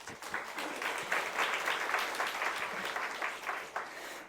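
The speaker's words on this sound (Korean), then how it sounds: "우리 다시 한번 박수 한번" A church congregation applauds after a choir's hymn, a soft, distant wash of many hands clapping that holds steady for several seconds and then trails off.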